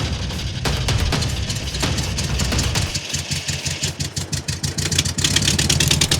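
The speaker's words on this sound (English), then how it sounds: "So with the engine starting up" A car engine, given starting fluid, cranks and catches, then runs at a rough idle with uneven pulsing, loud and close, no voices.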